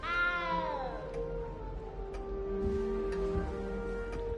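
A frightened cat in Hogwarts Legacy lets out a long, drawn-out meow that slides downward, followed by a quieter, wavering cry over soft game ambience and faint ticking.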